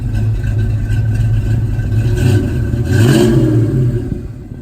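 A Mustang engine with a small cam, headers, H-pipe and full catback exhaust rumbles low and throaty, swelling in a couple of revs with a deep, loud exhaust growl before settling back toward idle.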